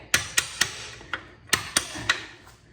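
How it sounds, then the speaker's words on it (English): A long metal punch is tapped against a bolt on a Honda CB77 Super Hawk 305 engine, seven sharp ringing metallic knocks in two quick uneven runs, close and clear. "Give this bolt a little tappy tap."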